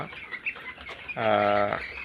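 Broiler chickens about twenty days old in a poultry farm shed, giving scattered soft clucks and then a louder, sustained call from a nearby bird.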